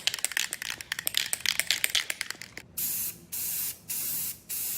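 Gloss black spray paint from an aerosol can coats a car's front splitter for an NA Miata, first with rapid rattling and short hisses, then four longer, steady bursts of spray close by.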